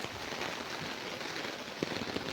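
Heavy early-morning rain falling steadily on a town in Rishra, Hooghly, a dense even hiss of drops on surfaces with no talk.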